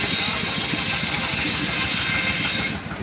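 A 1904 Minneapolis steam traction engine runs at a steam show, giving a steady close hiss of steam over a low rhythmic chuffing rumble that continues throughout before easing slightly at the end.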